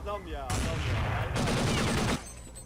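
Gunfire in the Roblox game Jailbreak: a loud, dense burst of rapid shots that runs for under two seconds, with a brief sharper stretch in the middle, heard close and alone.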